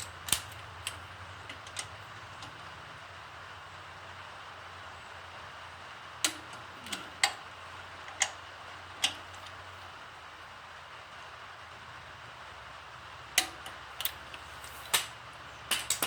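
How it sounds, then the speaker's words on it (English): A torque wrench gives a handful of sharp, isolated clicks while fasteners are torqued on an Onan engine, the snaps spaced irregularly across a quiet background with a low hum early on. "Now I am going to torque these."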